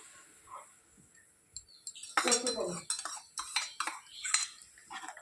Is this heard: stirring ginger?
yes